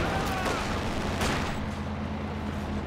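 Artillery barrage in a war video game, dense overlapping booms and crackling blasts rolling continuously, loud and close, with a sharp impact near the middle and a faint voice in the mix.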